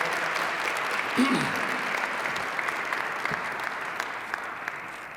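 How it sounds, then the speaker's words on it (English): An audience at a Black History Month crowning ceremony applauds steadily, a dense wash of clapping that stays even and moderately distant throughout, with no voices over it. "would you put your hands together and give them a great big round of applause?"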